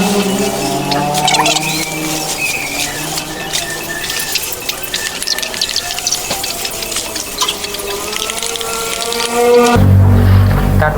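Salt water pours and splashes steadily into a container for about ten seconds, then a louder, fuller gush near the end.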